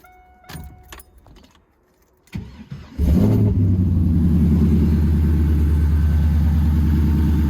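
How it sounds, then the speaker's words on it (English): A car engine, just repaired for exhaust manifold leaks, cranks and fires after a few faint handling clicks, then settles into a loud, steady, smooth idle heard up close for several seconds. "this thing sounds amazing now because there's no more manifold leaks, so it is quiet as hell under the hood"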